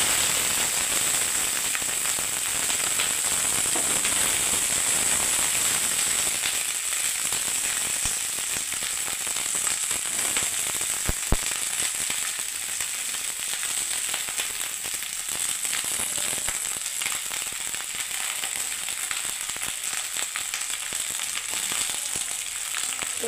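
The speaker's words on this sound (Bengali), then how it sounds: "ওই তেলেই বন্ধুরা আমি ভেন্ডিটাকে ভেজে নিচ্ছি এবারে দেখুন" Okra sizzles and fries steadily in hot oil in a pan over a gas flame for a Bengali-style okra and onion dish. The crackle is dense and unbroken throughout, with one sharper pop near the middle and no talking.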